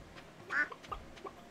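A quacking duck-like bird call in the video game Stardew Valley, two or three short quiet squawks heard alone.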